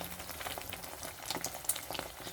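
Eggs fry in a pan, a soft, steady crackle and sizzle heard close but quietly, with tiny pops and no talking.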